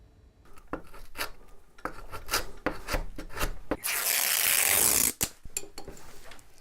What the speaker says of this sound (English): I'm gluing the rubberized cloth onto the pneumatic, which will allow the vacuum to close it.